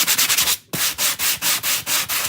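Light hand sanding over a chalk-painted craft piece: close, steady rasping strokes in an even rhythm, about eight passes with one brief pause early on, and no talking.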